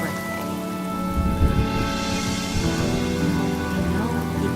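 Heavy, steady rain in the Honkai Star Rail video game, pouring down in a dense, continuous hiss over a low sustained musical drone, loud and unbroken throughout.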